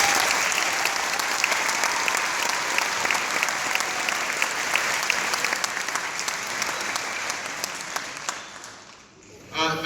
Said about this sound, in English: So give them another round of applause.